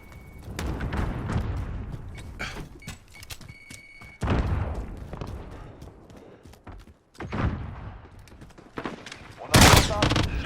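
Call of Duty Modern Warfare gunfire with a FAMAS rifle: several loud, close bursts of rapid shots and booming impacts separated by brief lulls, with game voices talking in between.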